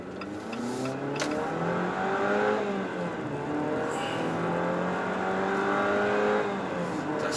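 A 2.4-liter gasoline Jeep Compass accelerates hard toward 100 km/h, its engine note climbing in pitch through successive gear shifts, heard steadily from inside the car.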